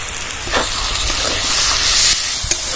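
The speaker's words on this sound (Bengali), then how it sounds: "আবারও ভালোভাবে সব মশলাটা কষিয়ে নেব।" Spice paste of ginger, garlic and chili fries in a pan for a Bengali jackfruit curry, giving a loud, continuous hissing sizzle with a few stirring knocks.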